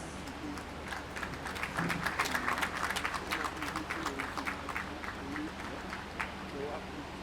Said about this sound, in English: another round of applause for trade and investment